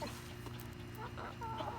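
Chickens cluck and murmur close by while being fed pumpkins, with short, soft, repeated calls over a low steady background.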